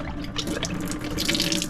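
A freshwater tap aboard a boat runs steadily, splashing into a sink with a bright, close hiss of flowing water and a few drips, and no one speaks.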